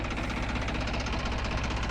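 New Holland Ford 3230 tractor engine running steadily at close range, a continuous dense diesel rumble with a rough, knocking texture and no talk.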